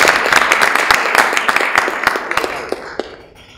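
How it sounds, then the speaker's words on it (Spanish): An audience applauding a student at a music course session, a brief burst of close, crisp clapping that thins out and fades over a few seconds. "vamos a pedir un aplauso para el compañero que tiene"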